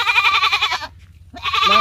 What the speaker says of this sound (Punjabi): ਚਲੋ ਪਰੇ, ਬੱਕਰੀ ਆ।